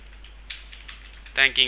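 Light typing on a computer keyboard while entering a greeting message in point-of-sale accounting software, a quiet run of soft key taps ending in a couple of louder clicks.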